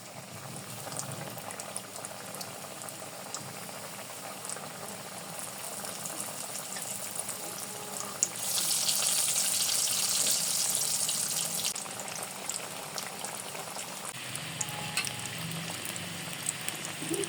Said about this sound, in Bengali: সবগুলো বানানো শেষ, এখন ভেজে নেব।